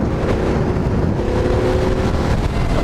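An EBR 1190RX motorcycle cruising at around 100 in tall sixth gear below 4,000 RPM, a low steady engine drone mixed with heavy, constant wind rush.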